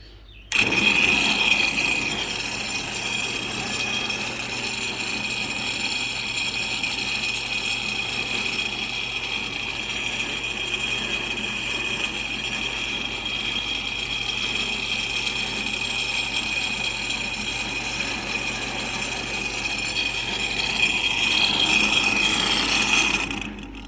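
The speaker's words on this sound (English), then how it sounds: "Electric motor to a pulley, to another pulley, to the big pulley." A decades-old electric motor drives a chain of belt pulleys up to a big pulley, running as a steady, loud whirring rasp with a high whine from start to stop, no voices.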